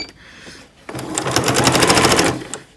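A sewing machine stitches zipper tape onto fabric, running in one steady, close, fast whirring burst of about a second and a half after a quiet pause, then stopping.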